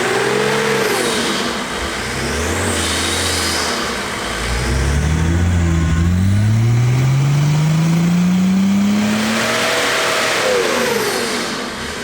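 A car engine on a dyno with its MAF sensor disconnected revs steadily upward in one long pull, its loud mid-range drone climbing in pitch before dropping off, with no talking.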